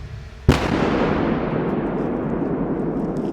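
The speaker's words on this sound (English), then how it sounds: "This blast was not as strong as the previous one, but it was scarier because you know what to expect." Controlled detonation of a bomb during bomb disposal near a small village: one sharp, loud blast followed by a long rumbling roar that slowly fades, with no talk.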